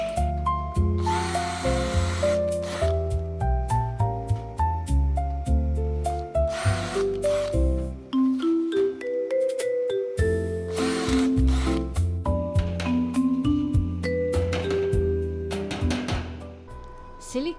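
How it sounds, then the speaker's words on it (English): Power drill bores rivet holes in a metal panel in the engine room of a double-decker motorhome, its loud whine rising and falling in repeated bursts with a short pause midway. "Next we're making the holes for the rivets."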